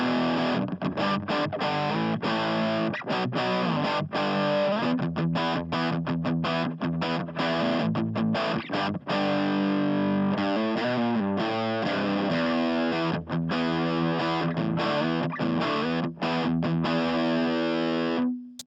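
Distorted electric rhythm guitar played through a Radial DI box with insert effects, recorded into Pro Tools: loud, dense chugging chords and tight palm-muted stops. It plays alone and steady, with brief gaps between phrases.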